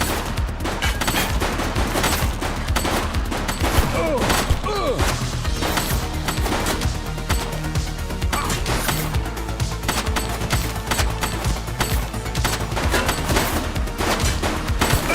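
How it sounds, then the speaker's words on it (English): Sustained, dense gunfire in a police story video game, rapid overlapping shots and impacts loud and close throughout, with little let-up. "Shots fired!"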